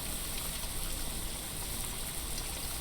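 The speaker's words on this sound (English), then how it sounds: "The rain is so loud." Rainfall in the video game Blue Prince, heard as a steady, even wash of rain across a broad hiss with no break, fairly soft and continuous, without voices.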